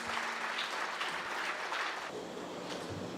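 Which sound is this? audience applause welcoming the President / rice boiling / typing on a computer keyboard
audience applause welcoming the President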